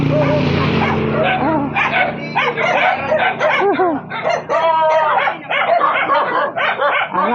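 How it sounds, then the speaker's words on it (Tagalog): Many dogs bark over and over in a crowded outdoor spot, the barks near and loud, mixed with roosters crowing and hens clucking, and some talk in the background. "Ang daming aso, ayan, no?"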